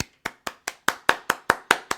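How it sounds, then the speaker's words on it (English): A single pair of hands claps about ten times in a quick, even rhythm, each sharp close smack ringing out cleanly with brief gaps, during a sports talk show about a college football transfer. "Round of applause for the people that realize this isn't good."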